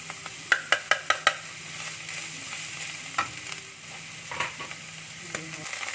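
Shallots fry in a pan over medium heat, giving a soft, continuous sizzle, with a quick run of sharp spatula clacks early on and a few scattered stirring knocks later.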